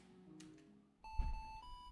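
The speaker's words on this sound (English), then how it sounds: "My phone suddenly buzzed with an incoming call from Jinny" A phone signals an incoming call: after a quiet, near-silent start, a steady electronic ringing tone with soft pulses begins halfway through and holds, faint and close.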